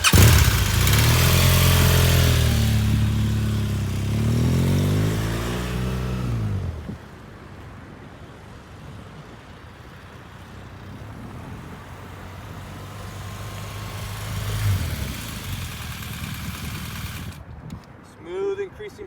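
A motorcycle revs hard and accelerates with rising engine tones through several gears, then drops to a low idle after braking to a stop, and a brief rev swells near the end.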